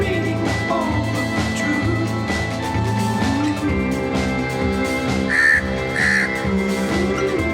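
A crow caws twice in quick succession at a heritage site in Mahabalipuram, with short harsh calls partly buried under loud, continuous music.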